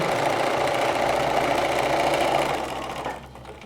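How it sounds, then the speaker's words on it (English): A domestic sewing machine stitching fabric whirs loudly and steadily up close, then winds down and stops near the end. "I really recommend just continuing to run the fabric through the machine"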